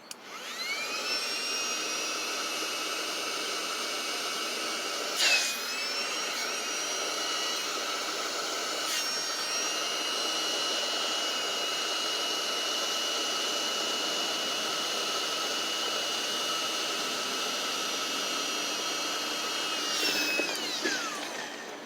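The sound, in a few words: electric air pump inflating truck bed air mattress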